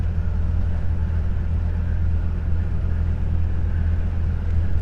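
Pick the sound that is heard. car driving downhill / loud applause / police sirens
car driving downhill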